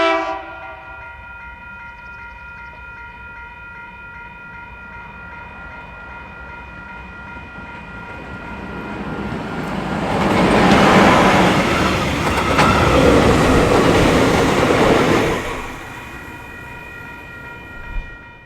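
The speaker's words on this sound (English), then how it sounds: "30042 had the honour of hauling the overhead inspection train." A refurbished KiwiRail EF electric locomotive hauls an overhead inspection train past. A sustained horn tone fades into a swelling rumble and rattle of passing wagons that peaks loudly and then recedes.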